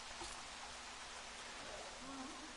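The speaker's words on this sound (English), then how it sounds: "They don't care that it's raining." Dense, even rain hiss fills a Jurassic World video game scene, a steady wash of patter with faint murmuring underneath.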